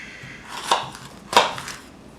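Two crisp knife chops through fresh jalapenos on a cutting board, evenly spaced about half a second apart, close and clear with no talking.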